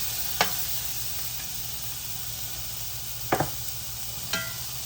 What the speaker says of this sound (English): we're going to take this press and press our patty down